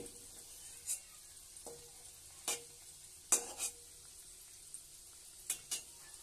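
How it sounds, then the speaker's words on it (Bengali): Taler bora, palm fritters, frying in oil while a spatula stirs them, heard as faint sizzling broken by several sharp metallic scrapes at irregular intervals, close by and without talk. "আমি খুন্তি দিয়ে একটু নেড়ে দিচ্ছি"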